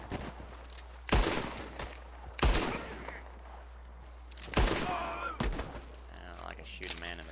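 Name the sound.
gunshot at a lock in video game Red Dead Redemption 2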